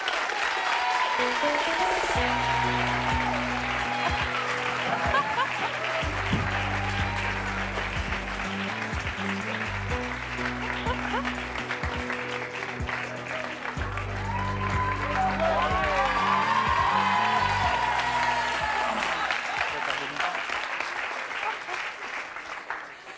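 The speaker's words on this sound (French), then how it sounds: "Je vous demande de les applaudir très fort." Studio audience on a French talk show applauding loudly and continuously, with upbeat music playing underneath and a voice briefly heard over the clapping.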